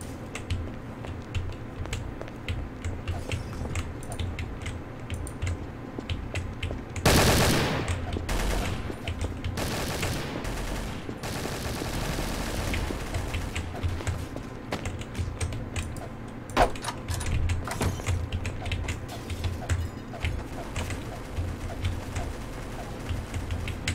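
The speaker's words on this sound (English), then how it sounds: "Who's shooting?" Gunshots in Garry's Mod's Trouble in Terrorist Town mode, a loud burst of rapid fire followed by scattered, sharper single shots against a busy game background, with no one talking.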